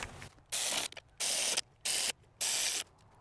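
Ratchet tightening intake manifold nuts on a Toyota Avalon, four quick bursts of clicking pawl strokes separated by short silent gaps, close and crisp.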